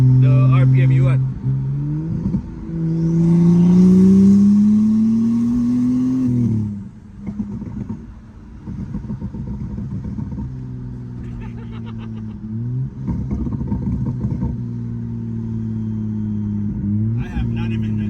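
BMW N55 engine in a 335i or 535i revving loudly, a deep rising drone that climbs and falls, then settles into a lower rumbling idle with occasional blips while people talk over it.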